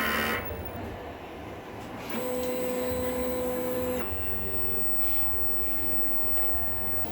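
A printer runs a print head cleaning cycle, first with a steady mechanical whir, then a clear sustained electronic whine for about two seconds before dropping back to a low motor hum, with faint clicks throughout.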